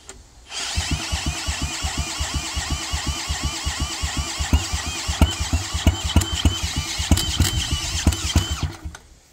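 With its carburetor removed, a Wheel Horse tractor engine runs fast and loud at close range, a steady high-revving drone punctuated by regular sharp popping bangs.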